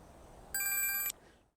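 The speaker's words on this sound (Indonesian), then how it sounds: "Philip sadar panggilan ini adalah cara Chris untuk menemukan keberadaannya" A phone in a film rings with an incoming call: one short electronic ring burst of about half a second over quiet background.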